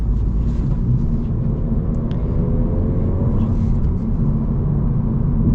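Steady low rumble of a Honda Civic's 4-cylinder engine while driving, a continuous muted drone with road noise and no sharp events.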